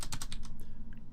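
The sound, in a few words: typing numbers on a computer keyboard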